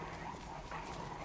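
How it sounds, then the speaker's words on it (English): Dogs in the Souls-like action game Lies of P give short, muffled barks and yips over a steady game soundscape, moderately distant rather than close. "And there's dogs."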